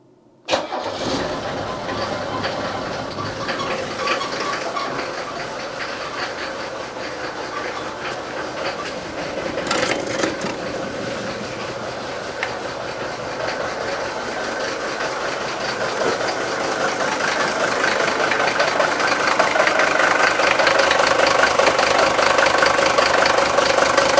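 A Mercedes-Benz S123 300TD diesel engine starts with a quick catch, then idles with a steady rumble that swells slightly louder toward the end.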